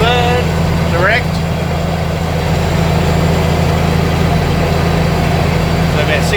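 A Mack truck's heavy diesel engine pulls steadily in third gear at about 1600 rpm, a deep continuous rumble close and loud throughout, with someone speaking briefly over it.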